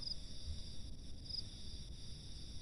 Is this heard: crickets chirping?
yes